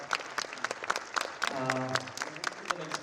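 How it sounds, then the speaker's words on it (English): Conference audience applause in a hall, scattered and moderately loud, with a brief sustained tone or feedback whine partway through. "shall we have a round of applause?"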